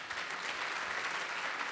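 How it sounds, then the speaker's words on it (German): Dense audience applause welcomes a doctor onto the stage at a science slam event, a steady, even wash of clapping with no talk over it. "wir begrüßen ihn mit einem tosenden Applaus hier auf der Bühne"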